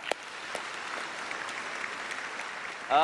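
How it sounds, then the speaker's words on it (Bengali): A studio audience on a Bengali TV quiz show claps for a right answer, a steady even wash of applause at moderate volume, ending as a voice briefly starts speaking. "জোরে হাততালি, রাইট আনসার।"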